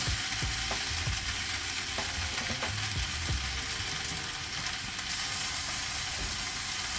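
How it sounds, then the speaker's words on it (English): Cooked egg being stir-fried and mixed in a pan gives a steady close sizzle with scattered scraping and tapping of the utensil against the pan, and no talk. "I'm going to add the cooked egg and mix."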